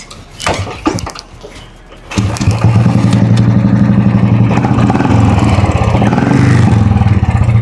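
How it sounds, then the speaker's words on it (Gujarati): After a few clattering knocks, a Royal Enfield Bullet Standard motorcycle engine starts and settles into a loud, steady, thumping idle that continues close by. "બુલેટમાં તો પણ છતાંય તમને અવાજ સંભળાવી દઉં"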